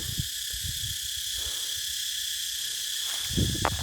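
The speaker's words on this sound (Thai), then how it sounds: "จักจั่นร้องจักจั่นก็เยอะเหลือเกิน" A steady, high-pitched cicada drone holds throughout at moderate loudness, with a few low thumps and rustles underneath.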